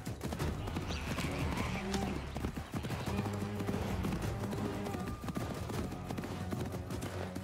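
Galloping horse hooves in Assassin's Creed Mirage, a fast continuous clip-clop close by with game ambience, while someone talks over it.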